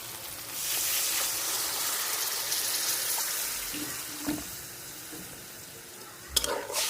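Water hitting a hot pan of Bangladeshi-style egg curry with softened tomatoes, giving a broad steady sizzling hiss close by, with a few soft knocks and a sharper clatter near the end.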